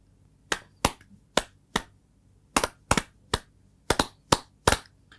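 Hands clapping in a rhythmic pattern, about a dozen sharp dry claps close up, some in quick pairs, with silent gaps between them and no talking.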